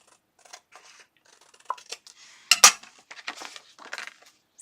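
Scissors snip through a printed digital stamp on card-making paper, a few quiet separate cuts with one sharper louder crunch midway, close and alone without talk.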